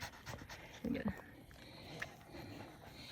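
A Cavapoo dog pants in quick, soft breaths on a mountain hike at Mt. Hood, Oregon, close but faint under quiet outdoor background noise, with a brief louder huff near the middle.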